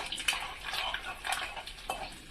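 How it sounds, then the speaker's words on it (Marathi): Garlic cloves dropped into hot oil with cumin seeds already spluttering in a pan, giving a crackling sizzle with a few sharp clinks and stirring scrapes at an irregular pace. "जिरं पण चांगलं तडतडलं आहे तर मी आता याच्यामध्ये टाकून घेते लसणाच्या पाकळ्या"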